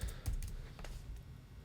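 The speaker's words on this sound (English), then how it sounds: "You start typing." Keystrokes on a computer keyboard, a quick run of light, irregular clicks close by while someone enters text into quoting software, with no voices.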